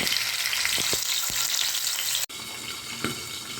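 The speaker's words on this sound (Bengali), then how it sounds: "পমফ্রেটটা ফ্রাই প্যানে তেল বসিয়ে দিয়েছি গ্যাস অন করে এবার আমি তাতে এই পমফ্রেট মাছটা ছেড়ে দিলাম" Pomfret fish fries in hot oil in a pan, a loud, dense, continuous sizzle with a few soft knocks, briefly cut off partway through and then resuming slightly quieter.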